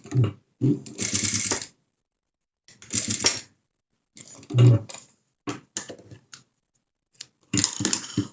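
A sewing machine stitches a seam in fabric, running in several short, loud rattling bursts separated by silent pauses.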